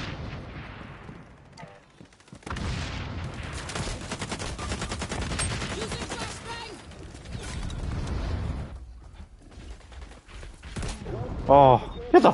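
Gunfire in a video game, a dense continuous barrage of shots and explosions with mechanical clatter, loud and nearly unbroken apart from a short gap, ending in a few sharp bursts.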